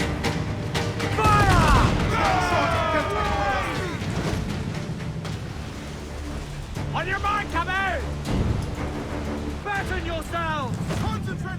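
Ship cannons fire during a naval battle in Assassin's Creed IV: Black Flag, heavy booming blasts ringing out over sea and wind while crew members shout loudly throughout.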